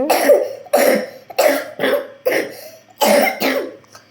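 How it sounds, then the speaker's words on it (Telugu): A child coughs in five or six separate, harsh bursts, each a short cluster spaced about a second apart, loud and close with brief silence between. "చూడు ఎంత దగ్గుందో"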